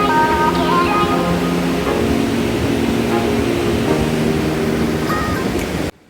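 Floodwater swollen by heavy rain rushes under a swaying footbridge in Azad Kashmir. It gives a loud, continuous roaring wash that carries on unbroken and then cuts off abruptly at the end.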